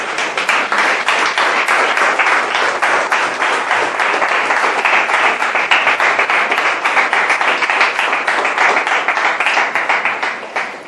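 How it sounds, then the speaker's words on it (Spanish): A church congregation claps in loud, sustained applause for the Lord after a sermon on prophecy, dense rapid hand claps filling the room steadily for about eleven seconds before tapering slightly at the end. "Bríndale un fuerte aplauso al Señor."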